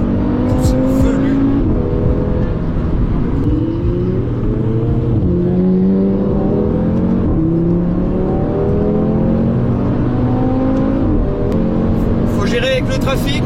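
An Audi A3 race car driving on a track at night, a loud continuous engine drone rising and falling through gear changes from close by, with people talking over it.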